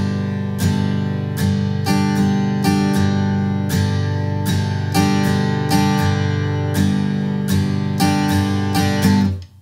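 A guitar plays a quick shuffle rhythm, evenly strummed chords with short accented attacks repeating steadily, loud and close with no voices.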